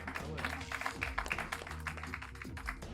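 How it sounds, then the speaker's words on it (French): Applause from a crowd at O'Gliss Park, steady and fairly dense across the whole stretch, mixed with some background music or noise. "Vous pouvez l'applaudir très fort."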